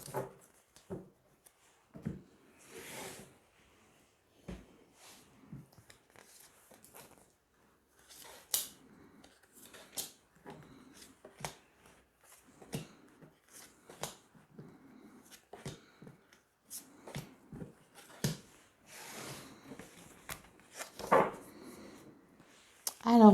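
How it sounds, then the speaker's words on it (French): Tarot cards drawn one by one and laid out on a table, giving soft scattered snaps, slides and taps at close range with pauses between, no talking. "Allez, on va tirer 9 cartes."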